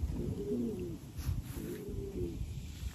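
Racing pigeons coo close by in two soft, rolling, throaty phrases over a low steady background, with no talking.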